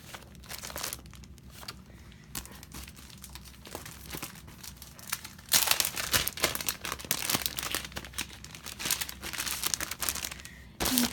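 Textured homemade paper crinkles and crackles in close, irregular bursts as it is handled, growing louder and busier halfway through.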